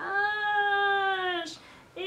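A house cat gives one long, drawn-out meow that bends downward, close and fairly loud, followed by a short pause and the start of another call.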